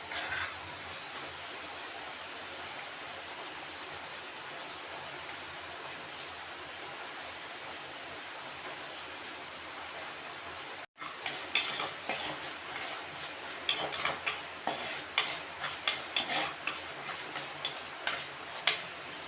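Onion and tomato sautéing in a pan for a Kerala prawn roast: a steady close sizzle runs throughout, then after a brief break turns crackly with spatula stirs and scraping clicks.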